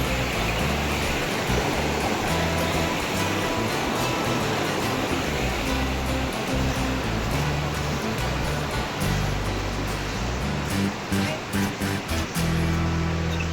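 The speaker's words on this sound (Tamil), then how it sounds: "தண்ணி எப்படி போகுது பாருங்கள்." Water rushes steadily beneath a small swaying bridge near Chinna Kallar Falls in Valparai, a loud, continuous broadband roar with no talk over it.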